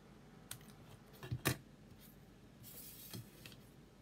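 Scissors snip through lemon lime twist ribbon while a card is being made, giving a few quiet, close cuts and light rustles.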